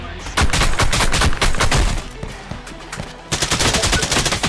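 Rapid gunshots from the video game Contractors Showdown, loud and close, firing in dense, fast bursts with a brief lull in the middle before another volley.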